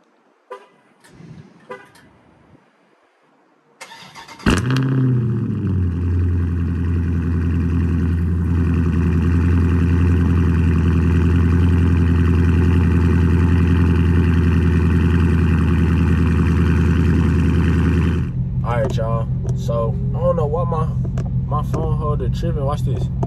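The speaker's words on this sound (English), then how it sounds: "I'm finna give y'all this cold start" Dodge Challenger Scat Pack widebody fires up from cold with a sharp starter catch and loud bark, then settles into a steady, deep, rumbling idle held close to the mic for about fourteen seconds before cutting off, with people talking before and after.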